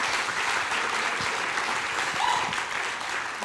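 An audience at a startup demo event claps and cheers steadily for a few seconds, a dense, even wash of applause with no talking over it.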